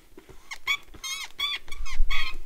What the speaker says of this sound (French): les fixations, genre à force de le moduler, il a un peu de mal, il grince, écoutez.